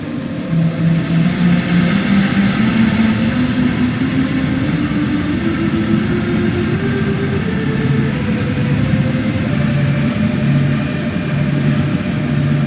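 Electric motor whine of a BR182 locomotive in the Train Sim World 2 game, a continuous loud drone with tonal pitches that step and glide upward as it accelerates, with no talking.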